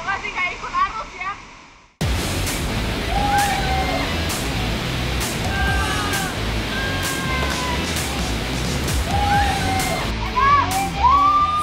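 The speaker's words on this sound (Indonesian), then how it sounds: "Air terjun dari bawah kelihatan deras banget" A powerful waterfall roars in a steady, dense rush from close range, with a short stretch of other sounds before it, and faint voices and birdlike chirps poking through the torrent.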